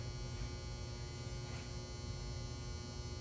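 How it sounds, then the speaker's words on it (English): A clothes dryer's end-of-cycle buzzer drones loudly and continuously, a harsh steady electric buzz rich in overtones that fills the room with no other sound. "My dryer buzzes so unnecessarily loud, so my clothes are done."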